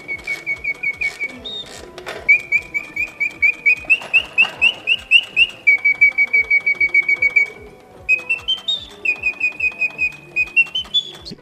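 A mechanical flute imitates a singing bird, trilling in rapid chirping runs of bright whistled notes over a steady ticking clockwork rhythm, loud and close, pausing briefly between phrases.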